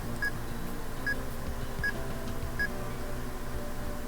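Four evenly spaced dial-tone beeps from a phone number being keyed in the horror video game Amnesia sound over a low, steady background hum.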